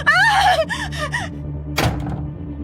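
A door slammed shut in a horror story scene, a single loud thunk ringing out just after a short cry of alarm, over a low background drone.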